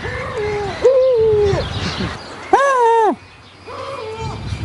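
A human-raised bird calling on the Mediterranean coast, loud, close, drawn-out tonal cries repeated four times in short bursts, with background noise between calls.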